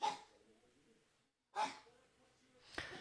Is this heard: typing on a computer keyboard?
no